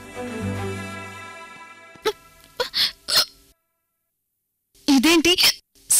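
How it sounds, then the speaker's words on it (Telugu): Several sharp hiccups, one after another with short pauses between, come loud and close, with a stretch of speech before them. "ఇదేంటి సడన్ గా ఎక్కిళ్ళు వస్తున్నాయి?"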